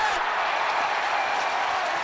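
Baseball crowd at an Orioles home game in Baltimore cheering and applauding a lopsided Rangers rout, a dense, loud, continuous roar of clapping and voices with no pauses.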